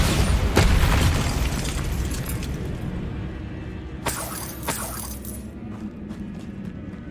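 A Bombarda spell explosion in the Hogwarts Legacy video game, with a loud booming blast and shattering debris at the start that fades into a rumbling tail, followed by a couple of sharp crackling bursts.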